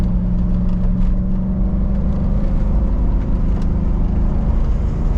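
A supercharged Range Rover P38 engine pulls under acceleration, a steady low rumbling drone heard from inside the cabin, loud and unbroken with no talk.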